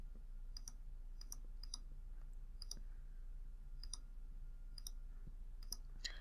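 Computer mouse clicking at a desk: about eight crisp, close, single clicks spaced roughly evenly over a steady low hum, no voices.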